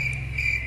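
A short stretch of constant high-pitched cricket trilling, steady and unbroken, with a faint low hum underneath.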